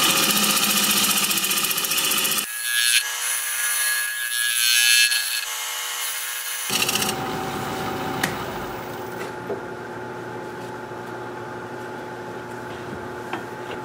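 Wood lathe spinning a log while a bowl is turned at around 900 rpm, giving a steady whirring hum with scraping tool contact that shifts partway through, close and continuous with no talk.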